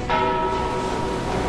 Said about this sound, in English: Father Dawkins used his influence and arranged for a large brass bell to be mounted on the rock. When the wind blew, the bell rang,